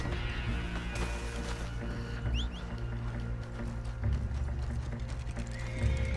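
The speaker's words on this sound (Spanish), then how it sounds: "Aquí viene mi caballo bestia parda." A horse neighs and trots up with clip-clopping hooves in the Western video game Red Dead Online, a whinny midway over steady hoofbeats and ambient game sound, fairly quiet in the mix.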